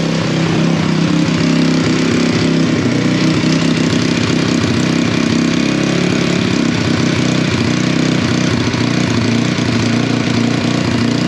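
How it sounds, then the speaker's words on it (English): A motorcycle engine idles high with the choke on, a loud continuous buzzing rumble close by with no pauses. "Idle sounds really, really high."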